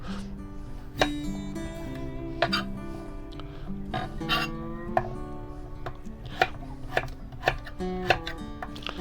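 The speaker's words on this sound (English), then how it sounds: "I don't normally video myself cutting with my sharp cooking knives, which are really sharp." Fresh ginger is chopped with a very sharp kitchen knife on a board aboard a narrowboat, giving crisp irregular knocks that come close and clear over a steady bed of background music.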